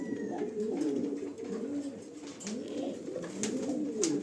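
Spanish pouter pigeons coo close by, a low rolling, repeated throaty warble in overlapping phrases, steady and moderately soft, with faint background rustle and no voices.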